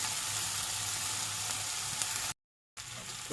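Onion, pepper and tomato are sautéed in a pan as a topping for eggplant pizza. A continuous close sizzle plays steadily, then cuts out briefly before resuming.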